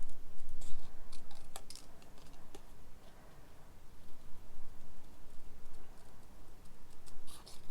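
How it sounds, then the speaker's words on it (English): Small, sharp-edged scissors cut through paper in a quiet room, giving soft, irregular snipping and rustling close to the ear. "you get a nice pair of small scissors, sharp edge, and basically you turn the paper, not the scissors"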